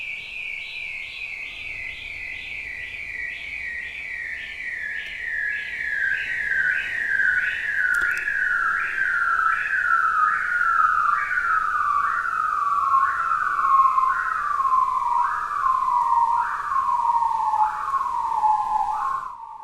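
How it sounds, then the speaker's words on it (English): A long underwater bearded seal call: a warbling trill that spirals slowly downward in pitch, steady and prominent, lasting nearly twenty seconds. "listen for the voice of the diving seal that makes these voices deep underwater"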